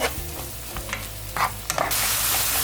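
Carrots being stirred and sautéed in a pan, sizzling with scraping stir strokes that swell into a louder, steady fry toward the end; close and clear with no talking.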